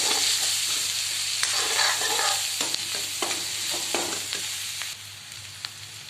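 Onion and green chili sabzi frying in a pan as turmeric powder is stirred in: a constant bright sizzle with scattered spoon scrapes and taps, close up and free of talk, easing slightly toward the end.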